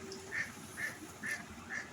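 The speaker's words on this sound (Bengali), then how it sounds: "আর হাঁসগুলো খুব ডাকছিল" Four evenly spaced quacks from ducks on a pond, fairly faint and slightly distant, over a soft outdoor background hiss.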